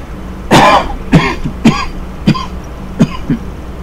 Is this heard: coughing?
yes